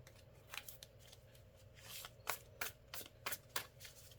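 Alice in Wonderland tarot cards, a slightly larger-than-usual deck, are shuffled close up, giving a run of soft riffling bursts and sharp flicks and snaps at an uneven rhythm, with no talking.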